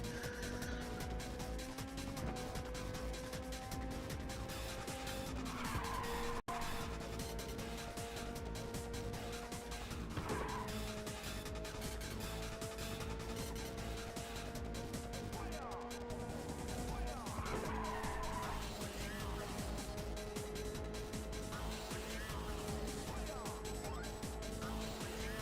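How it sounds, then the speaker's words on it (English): Car drifting with tire squeal in the PlayStation Portable racing game Ridge Racer 2, a steady engine drone with sustained screeching tones rising and falling through the skid, continuous and fairly loud, with faint talk mixed in. "by doing a really fast drift like that"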